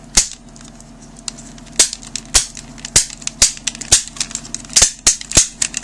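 Sharp plastic clicks from a Transformers G1 Headmaster Mindwipe toy's shoulder joint in an irregular ratcheting series, sparse at first and then coming faster, close and crisp over a low background hum.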